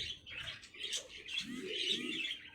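Pigeons kept by a fancier give soft cooing and brief chirpy calls, fairly faint, in a quiet space with no talking.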